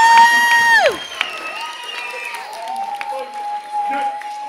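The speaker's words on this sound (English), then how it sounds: "You guys should be clapping." Children's audience at a magic show cheers and shouts, with tonal voices and whoops dominating over a brief scatter of clapping; close and loud.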